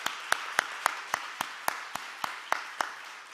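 Twelve sharp, evenly spaced hand claps ring out in a steady rhythm from a church congregation during a youth Sunday worship service, fairly close and clear with no talking over them.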